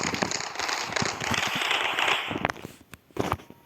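Scorch flamethrower turrets fire in the Mindustry strategy game, giving a dense crackling, popping burst that holds steady for about two seconds and then breaks into scattered sputters.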